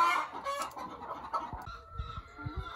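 Free-range hens on a rural smallholding cluck close by in a loose run of short, irregular calls, with a few low soft clucks near the end.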